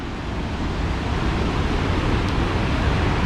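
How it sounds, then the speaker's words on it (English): Sea waves break continuously on the beach at Tunstall on the Holderness coast of Yorkshire, a steady, full, close wash of surf with no pauses and no voices. "I'm sure you can hear them waves"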